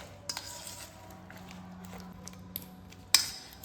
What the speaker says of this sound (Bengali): একটা চামচ দিয়ে খুব ভালোভাবে আমের সাথে মশলা, লবণ, কাঁচা লঙ্কা, তেলটাকে মিশিয়ে নেব।